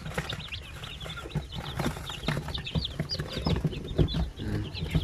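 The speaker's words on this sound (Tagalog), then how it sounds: "Ayan naglalaro ngayong ibang mga sisiw diyan." Newly hatched chicks in an incubator cheep constantly in high, overlapping peeps, with soft scuffling and taps as they move about. The sound is close and busy.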